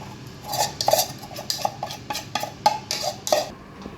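Chocolate brownie batter stirred by hand in a bowl, a utensil scraping and clinking against the sides in a steady, repeated rhythm of short strokes, close and fairly quiet, with no talking.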